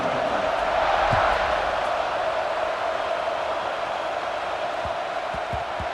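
A football stadium crowd roars steadily just before kickoff, a dense and continuous wash of cheering that holds at an even level throughout.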